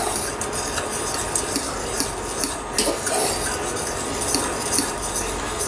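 A fork beats ingredients in a bowl for a bourguignon, a steady scraping, clinking rhythm that runs without pause at close range, with small metallic ticks against the bowl's sides.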